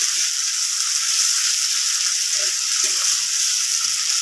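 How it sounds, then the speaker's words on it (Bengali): Chopped onions fry gently for a capsicum filling with a steady, bright sizzle, and a few soft stirring knocks come through near the middle, with no one speaking. "পেঁয়াজ কুচি দেওয়ার পর একটু নাড়াচাড়া করে হালকাভাবে লালটা হবে"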